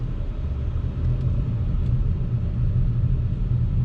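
A 2021 Acura TLX Type S pulling away in drive, heard as a steady low engine and road rumble from inside the cabin with no talking.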